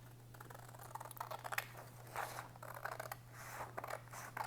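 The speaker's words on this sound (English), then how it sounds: "Now, just cut this out." Scissors cutting out a paper piece for a junk journal, a faint series of quiet snips and rustles close by on a desk, with a steady low electrical hum underneath.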